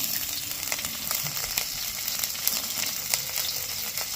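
Chopped garlic and green chili frying in mustard oil give a steady, close sizzle with scattered sharp crackles and pops, no voices over it.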